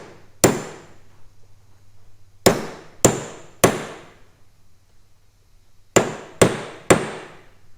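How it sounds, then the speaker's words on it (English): A small hammer taps a new front seal into a GM power steering pump during a rebuild. The sharp metallic knocks are close and come in spaced groups of one to three, with quiet gaps between them and a faint low hum underneath. "just small taps, you don't have to bash it in all at once"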